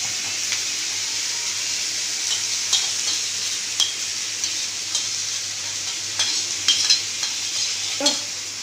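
Water splashed onto spices frying for a paneer gravy sets off a steady hiss and sizzle in the pan, broken by occasional spoon scrapes and small pops, close by with no voices.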